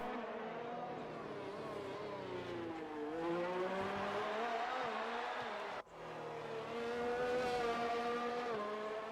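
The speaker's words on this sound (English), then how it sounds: "You can hear the other cars now as I'm slowly catching them" Several F1 race cars in F1 2019 at the Australian Grand Prix, engines whining in steady high revs that rise and fall through gear shifts, loud and continuous with a brief dip midway.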